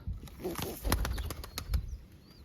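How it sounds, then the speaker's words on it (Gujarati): A pigeon beats its wings in a rapid flurry of soft flapping whooshes close by, with a faint coo-like call, all fairly quiet. "જો કબૂતર છે"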